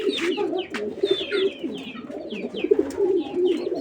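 Racing pigeons kept as breeding stock coo in a loft, with repeated low throaty coos up close, overlaid by scattered brief chirps and flutters, with no talk.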